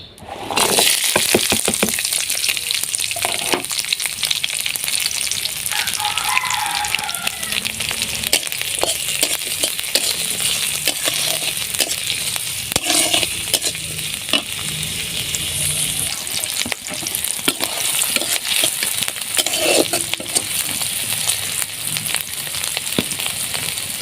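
Onions and chillies frying in a pan: loud, continuous crackling sizzle with occasional clinks of a utensil against the pan, close up, with faint talk at moments.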